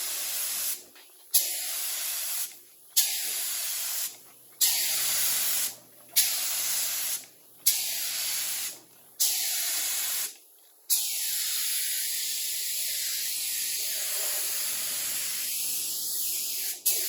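Primer sprays onto a 1968 car body in about seven short, sharp hissing bursts with brief pauses between them, followed by a softer, steady hiss that runs to the end.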